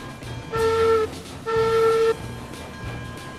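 A heavy ten-car train without a caboose runs in the video game Railroads Online, with two sustained horn blasts over a low rumble of rolling rail cars.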